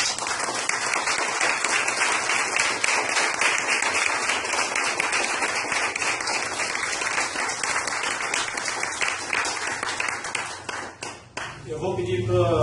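Mourners at a memorial gathering give a long, sustained round of applause, a steady dense clatter of many hands that fades near the end as voices and other sounds come in.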